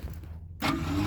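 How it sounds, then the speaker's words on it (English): A faulty car starter motor whines and revs freely without engaging. A steady low hum cuts out briefly, then a louder, rougher mechanical whir surges and holds, close up. "Yeah, your starter's not supposed to rev."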